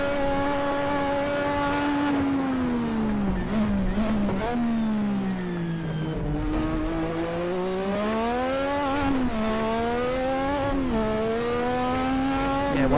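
Race car engine in Assetto Corsa, a loud, steady harmonic drone that rises and falls with each throttle change, climbing through revs over several gear-like sweeps with no talk.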